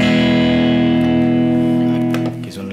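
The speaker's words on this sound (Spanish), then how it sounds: "esto emula este sonido que fue de los primeros sonidos para la distorsión en la música rock" Electric guitar played through an overdrive distortion pedal that emulates tube amplifier saturation, a sustained, thick, harmonically rich chord ringing loud and steady, then thinning slightly near the end.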